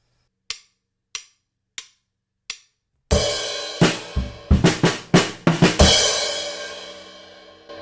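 Drum fill on the fourth measure of the bridge: four sharp, evenly spaced stick clicks ring out alone, then a loud, dense burst of drum and cymbal hits follows close up, ending in a sustained crash wash.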